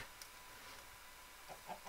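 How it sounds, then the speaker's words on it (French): Faint chickens cluck softly in a modded Minecraft-style survival game, a few short scattered clucks over a quiet low background hum. "Oh, des poulets!"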